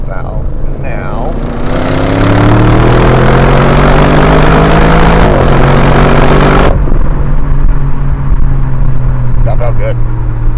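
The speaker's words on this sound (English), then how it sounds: "we're gonna actually show how this vehicle merges and do a quick pull right about now" 2024 Audi RS6 Avant Performance accelerating hard while merging: a loud, close engine roar climbing in pitch through several gear changes, then easing off to a lower steady drone.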